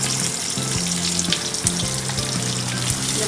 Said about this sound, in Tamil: கட் பண்ணி வச்சிருக்கிற ஆனியன் ஆட் பண்றோம்.